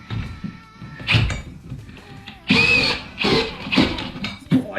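A power drill fitted with a new bit holder driving a screw during house renovation work, in several short, loud whirring bursts separated by brief pauses and some clunking handling noise.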